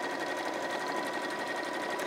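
A sewing machine runs steadily through fabric, its rapid needle rattle dense, even and close throughout, with no voices over it.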